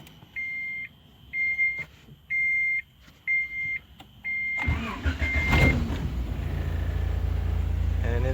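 A 1986 Honda Accord LXi with an A20A3 engine beeps repeatedly as the key is turned on, then the starter cranks and the engine catches and settles into a loud, steady idle up close.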